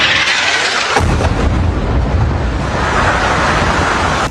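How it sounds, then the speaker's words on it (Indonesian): An Israeli missile strike explodes among buildings in the southern outskirts of Beirut, Lebanon, hitting suddenly and rolling into a loud, sustained roaring rumble that fills the air. "pesawat tempur Israel menembakkan rudal dan memicu ledakan besar yang menghancurkan bangunan"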